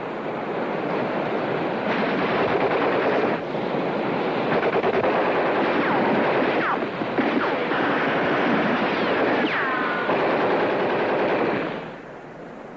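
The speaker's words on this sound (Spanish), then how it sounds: "Sigue disparando." Rapid machine-gun fire rattles through a 1952 film shootout, long, loud and nearly continuous bursts with brief breaks, fading out at the very end.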